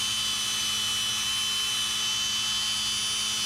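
A lathe runs steadily while buffing and polishing a part from a 1977 Datsun, giving a continuous close whine with a low motor hum underneath and no voices.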